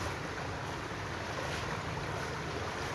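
Outdoor flowing water on a mild, pleasant day, heard as a broad, steady rushing wash with some wind noise over the microphone, continuous and fairly close with no voices.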